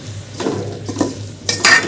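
Roasted chickpea panjiri being stirred in ghee in a pot, with a few scraping stirs and soft sizzling, close and fairly loud, with no talking.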